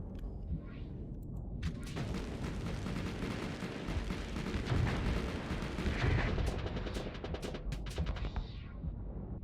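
Reaper weapon fired in a space combat video game, a loud sustained burst of heavy booming, crackling blasts that swells and holds for several seconds with sharp bursts near the end.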